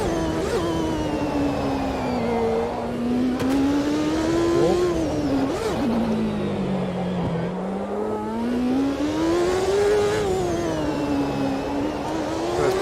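Loud race car engine screaming through a flying lap of the Long Beach street circuit in Automobilista 2, its pitch rising and falling continuously with acceleration and braking, heard alone without talk.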